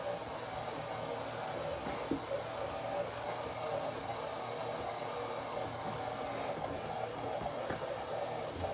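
A stand mixer kneads yeasted dough for a Bavarian plum cake, a steady, loud motor whir with a constant hissing hum throughout and faint knocks from the dough.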